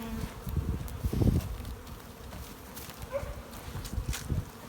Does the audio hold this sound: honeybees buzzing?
yes